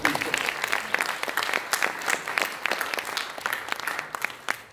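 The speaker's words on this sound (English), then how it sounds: "really clap for Hadi and his team, congratulating them for such an awesome job" An audience at a Dubai blockchain conference applauds a team steadily, close and sustained, with a few voices mixed into the clapping throughout.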